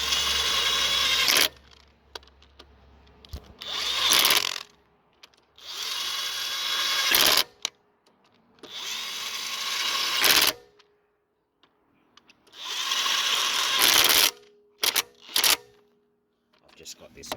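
Power drill set to its lowest speed tightens axle flange nuts during an emergency stripped-flange repair, running in five or six loud whirring bursts of one to three seconds each, separated by brief pauses with small clicks of socket handling.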